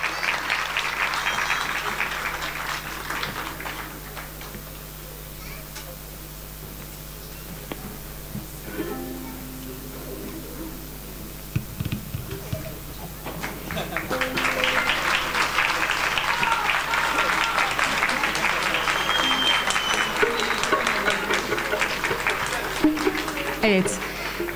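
An audience at a teachers' honoring ceremony applauds continuously for around twenty-five seconds, a dense steady clapping that swells louder in the latter half, with a speaker's amplified voice briefly heard over it.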